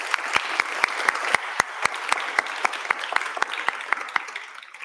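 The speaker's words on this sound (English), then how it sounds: "Could we give our 3 finalists a big round of applause?" An awards ceremony audience in Queensland applauds three finalists at the Next Gen National Awards 2023, a thin, moderately faint spread of individual claps ringing out steadily before tapering off at the end.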